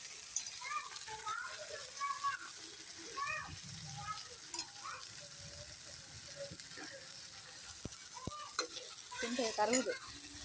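Prawns and curry leaves sizzle and crackle in a pan for a steady stretch, with stirring clinks and a voice chattering faintly in the background.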